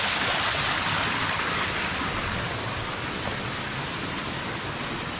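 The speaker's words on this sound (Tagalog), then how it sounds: "Ito yung pangalawang falls nila mga kajud." Steady, full rush of a waterfall at a farm and spring resort in Carmen, Cebu, continuous broadband roar close by with no pauses, loud and alone without speech.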